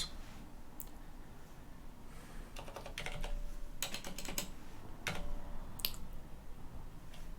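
Irregular bursts of keyboard typing, clicking keys in quick clusters with brief pauses, close by against a low room hum.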